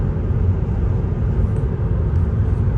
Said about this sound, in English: The next dislike, road noise. There's no way around it. This car is loud on the road.